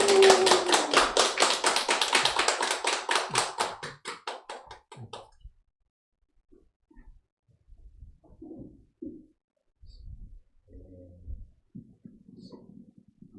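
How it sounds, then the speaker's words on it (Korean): Church congregation applauding to welcome a pastor, a dense burst of hand clapping that fades out after about four seconds, followed by quiet room noise and a few faint bumps. "나오실 때 박수로 환영하도록 하겠습니다."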